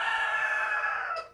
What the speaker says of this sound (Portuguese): Aqui a galinha canta cedo.